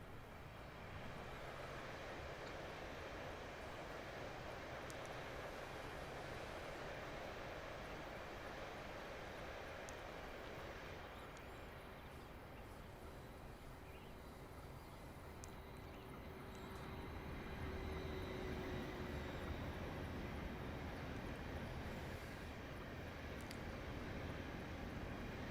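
A train rolling past in Train Simulator Classic on a London route, a continuous low rumbling drone with faint rail hiss that swells slightly in the latter part, heard alone without talk.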